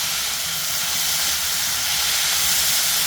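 Chopped tomatoes sizzle in hot onion tempering for a Kannada-style okra stir-fry, a loud, steady, close hiss throughout with no voices.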